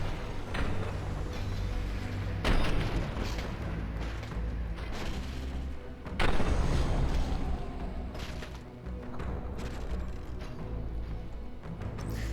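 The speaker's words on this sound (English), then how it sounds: "let's see what happens with the missiles" Missile strikes in the mech strategy game Phantom Brigade, a rumbling series of booms with two heavier impacts and mechanical creaks over a low continuous drone.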